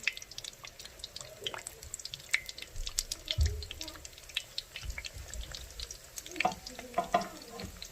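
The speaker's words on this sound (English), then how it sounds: "It's frying really good." Hot oil crackles and pops steadily as empanadas fry, with scattered drips and sharp spits, close by and moderately loud.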